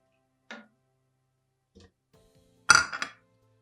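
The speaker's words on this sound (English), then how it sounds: "Stir a little bit. So this is already coming up. Stir it thoroughly." A utensil knocks against a pot of ogbono soup in a few sparse, close clinks, the loudest pair near the end, with quiet gaps between them.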